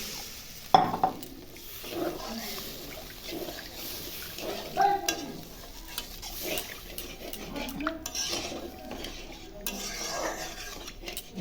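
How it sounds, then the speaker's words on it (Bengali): Broth goes into sizzling, well-fried masala for a katla fish curry, bringing a soft hiss and bubbling with spoon scrapes and clinks against the pan, moderately quiet and continuous. "এখন ঝোল দিয়ে দিচ্ছি অল্প করে।"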